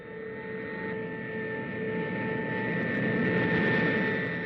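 A Soviet bomber from 1961 drones steadily in flight, its engines giving a continuous hum with a clear tonal whine that swells slightly louder over several seconds.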